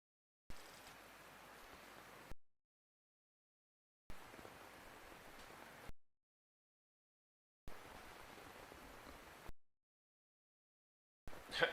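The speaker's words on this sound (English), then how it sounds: "Just standing out there in the rain." Steady rain hisses in the Metal Gear Solid: Peace Walker video game, playing in three even bursts of about two seconds each with silent gaps between them, and a fourth burst begins at the end.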